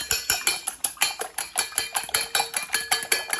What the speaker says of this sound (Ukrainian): І давайте ми отак збиваємо.